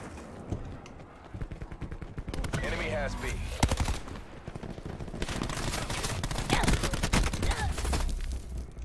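Rapid automatic gunfire bursts crackle through a Call of Duty: Black Ops 4 multiplayer match, dense volleys repeating with brief gaps, while a game voice announcement and a player's talk come through over the shooting.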